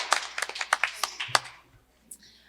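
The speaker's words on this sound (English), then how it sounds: "So give yourselves a round of applause," A small gathering at a League of Women Voters meeting gives a short round of applause, a handful of distinct, fairly close claps over about a second and a half before it dies away, with a brief voice afterward.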